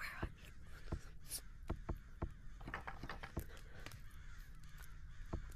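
Crows caw repeatedly in a video game's Halloween update, sharp harsh calls spaced irregularly across a steady ambient background, loud and close with no talking.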